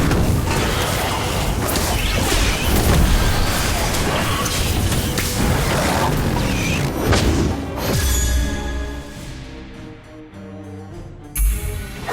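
Incendio fire spell from a Harry Potter video game: a loud whooshing burst of flame with crashing impacts and thuds, dense and continuous before easing off near the end.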